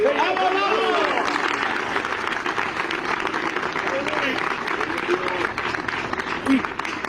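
A church congregation gives loud applause, a thick burst of many hands clapping that slowly thins, with scattered voices and shouts mixed in.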